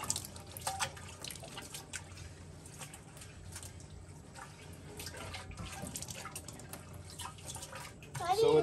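Someone reaches into a pickling jar and scrubs it out with water. Soft sloshing and dripping stay quiet and close throughout, with a louder splash right at the end.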